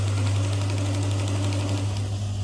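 A sewing machine hems fabric with a magnetic hemmer foot, folding a 3 mm edge for a decorative cushion, with a steady, rapid mechanical whir and needle chatter, close and continuous, with no talking.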